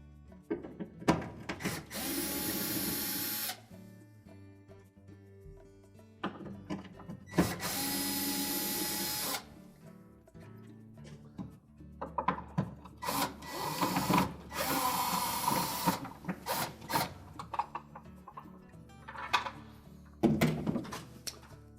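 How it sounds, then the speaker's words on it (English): Three Phillips screws are backed out of the crisper air control inside a GE refrigerator with a power driver, giving several sustained whirring runs separated by clunks and handling noises, close and fairly loud. "It's held in place with 3 Phillips screws. We're just going to remove those."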